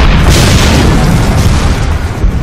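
A tank is struck by shells in a fierce tank-on-tank battle, producing a loud, dense, continuous explosive roar with heavy low rumble that fills the whole moment.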